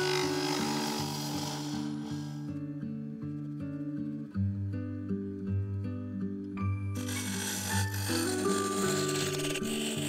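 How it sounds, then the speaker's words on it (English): A carbide scraper hollows out a yew wood hollow form on a lathe, giving a rough rasping scrape in two stretches, near the start and again toward the end, under steady background music. "I continued hogging out the waste material, switching between the side-cutting scraper and the full-size carbide"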